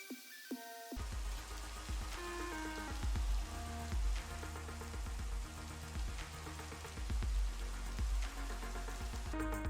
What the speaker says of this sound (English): And look at that, now it's raining.